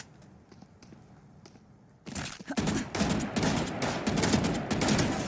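Rapid bursts of gunfire in a video game deathmatch on the map Haven start abruptly after a quiet stretch, then crack repeatedly in dense, loud volleys with short pauses between bursts.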